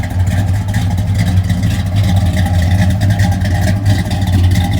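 A 1970 Dodge Super Bee's 440 V8 engine with a manual 4-speed, loud and rumbling, idling and revving steadily, its deep low growl close and continuous with no talking.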